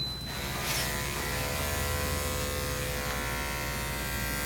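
Electric dog clippers humming steadily close by while grooming a husky, a constant high buzz with no breaks.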